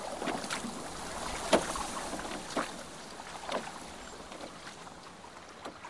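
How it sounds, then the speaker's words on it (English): Water laps and splashes softly on a boating lake with little rowing boats, scattered gentle splashes and drips over a steady breezy wash, no talking. "Can you hear the sound of the water on the boating lake?"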